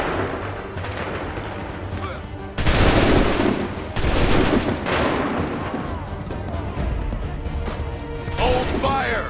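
Musket volley gunfire in the video game Assassin's Creed 3 erupts in loud, dense blasts, two big volleys close together followed by scattered shots amid battle noise and shouting voices.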